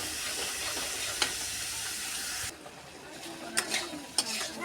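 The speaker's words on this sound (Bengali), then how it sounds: "যতক্ষণ না শুকনো হয় ততক্ষণ এটাকে ভাজতে থাকবো।" Yardlong bean paste stir-fries in a pan with a steady, close sizzling hiss that drops quieter midway, broken by a few sharp scrapes and clinks as it is stirred.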